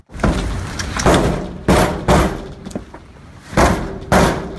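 Police hammer on a door during a dawn drug raid: a series of heavy, loud thuds land in uneven bursts about half a second to a second apart, booming with a slight rattle.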